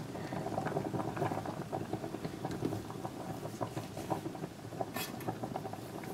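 A pot of milk with garlic powder simmers on a stove, giving a faint, steady bubbling and popping patter throughout.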